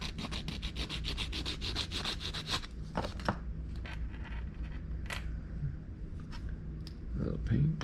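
Close, rhythmic strokes of sandpaper rub against a small plastic part from an AMT 1934 Ford pickup truck model kit, with quicker passes early, then scattered scrapes and a brief voice.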